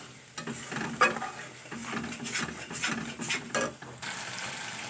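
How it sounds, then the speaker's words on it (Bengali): A spoon stirs and scrapes spice masala mixed with whisked yogurt in a pan, steady close scraping and clinking over a soft continuous sizzle, with no talk. "আবার একটু মশলাটা খুব ভালো করে কষে নেব।"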